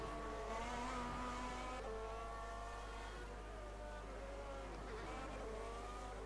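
A Formula 1 car at full throttle in an F1 video game qualifying session at San Marino, its high engine whine holding and rising through gear changes, steady and close under a constant low hum.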